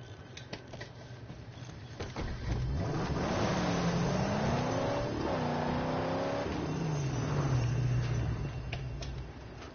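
Car engine in the Mad Max video game drives and revs, the pitch rising and falling through gear changes as a steady loud motor roar that fills the whole stretch.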